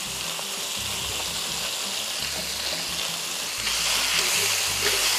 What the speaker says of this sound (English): now that I got good browning on that meat and that tomato paste is caramelizing